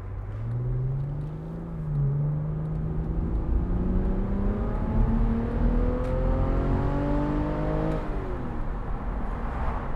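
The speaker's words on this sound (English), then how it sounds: "that's one very, very nice sounding engine." A 2006 Audi A4 Cabriolet 3.1 FSI S Line engine revs up, its smooth note climbing steadily in pitch for several seconds before dropping as if through a gear change, loud and close.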